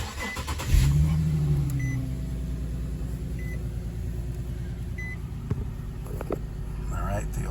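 An Infiniti Q40 engine cranks over and catches, then idles steadily with a low rumble while a few faint dashboard chimes beep at regular intervals.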